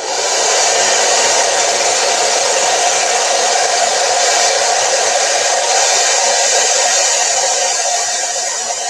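Hair dryer blowing on plastic and mixed-media materials for an altered cigar box craft, a loud, steady close-up whoosh and motor hum running unbroken for almost nine seconds with no talking.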